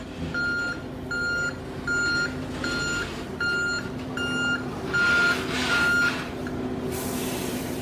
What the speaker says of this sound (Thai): ก็เป็นรถคันใหญ่น้ำหนักราวๆยกได้ร้อยตันนะ